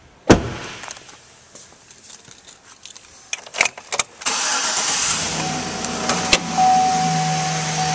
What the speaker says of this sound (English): now we'll start up this truck.